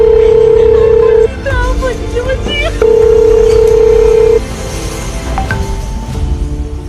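Telephone ringing for an incoming call, a steady electronic ring tone sounding in long repeated bursts with brief pauses, loud and close, mixed with other tones and a voice in the background.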